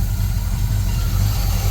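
A 1966 GMC pickup truck's smog-era engine idles steadily up close, a loud, even low rumble with constant vibration and no break.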